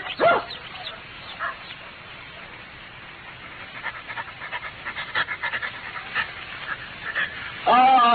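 A dog in an old-time Sherlock Holmes radio drama pants and whimpers softly, with faint barks and bird-like chirps under quiet scene noise, and a short voice enters near the end.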